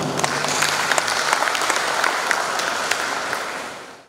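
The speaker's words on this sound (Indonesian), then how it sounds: "Tepuk tangan dulu Pak." A crowd at a community outreach meeting in Banjaran, Kediri, bursts into brisk applause, a dense even clatter of many hands with scattered sharp claps, sustained throughout before cutting off abruptly.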